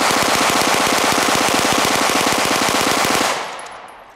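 A Gatling gun fed from a 100-round drum of 115-grain 9mm full metal jacket rounds fires one loud, rapid continuous burst of tightly spaced shots for about three seconds, then stops and fades into ringing echo.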